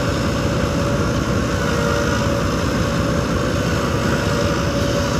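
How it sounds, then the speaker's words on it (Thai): A Hitachi excavator's diesel engine runs at moderate throttle while laying pipe for a road, a loud, steady, unbroken rumble heard up close, with no voices. "เราก็อยู่กับเจ้าฮิตาชิเหมือนเดิม นี่เร่งเครื่องไม่แรงนะฮะนี่"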